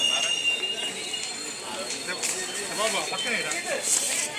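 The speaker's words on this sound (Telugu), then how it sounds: "రాజమండ్రి పట్టాల మీద ఆగిన రైలు మామ మెల్లగా పరుగు తీయడం మొదలుపెట్టినాడు" An express train pulls away from Rajahmundry station, with high squealing wheel tones and metallic rail noise over a low rumble, and a busy crowd murmuring nearby.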